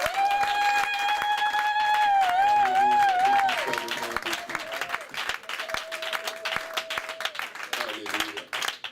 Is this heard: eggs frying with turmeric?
no